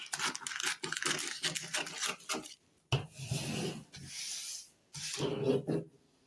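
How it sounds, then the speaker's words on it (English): Scissors snip and rasp through fabric while a gown pattern with front buttons and a Peter Pan collar is cut out, the back neck first. The cutting comes in bursts of close, dry rubbing, broken by short pauses. "So I'm cutting the back neck first"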